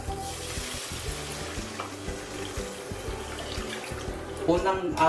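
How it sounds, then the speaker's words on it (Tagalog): Coconut milk pours into a hot frying pan with catfish, a steady sizzling, bubbling wash that swells near the end, with a voice briefly heard. "Tapos, lagay natin tong gata."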